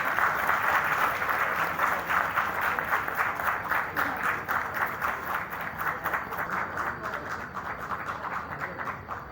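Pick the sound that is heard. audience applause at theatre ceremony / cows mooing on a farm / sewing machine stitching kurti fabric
audience applause at theatre ceremony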